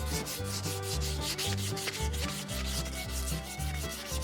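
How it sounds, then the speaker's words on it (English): Axe handle being sanded by hand with 220 grit sandpaper, a quick run of rhythmic rubbing strokes, close and fairly quiet, with no voices. "So I now have my 220 grit sandpaper and I'm gonna take it and I'm going to try to make this a lot smoother to the touch"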